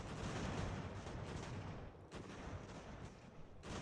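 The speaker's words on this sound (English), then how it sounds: "Point blank canister into artillery" Canister shot artillery fire in the battle game Ultimate General: American Revolution: a dense, roaring wash of cannon and musket blasts, rumbling steadily with a couple of brief dips, no voices.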